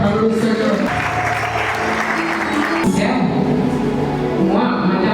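A wedding blessing congregation in Brazzaville claps steadily and loudly throughout, with voices and music-like tones mixed into the applause.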